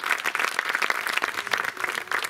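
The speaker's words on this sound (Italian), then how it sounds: "fatevi un applauso da soli" A live audience at a summer open-air music and comedy show bursts into dense, sustained applause, many hands clapping steadily throughout at fairly close range with no pauses.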